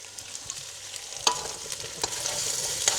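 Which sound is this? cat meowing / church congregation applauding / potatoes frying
potatoes frying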